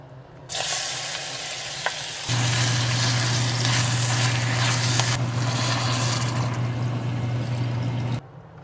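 Kimchi udon cooks in a pot, giving a continuous loud bubbling hiss with a low steady hum beneath that starts and stops abruptly.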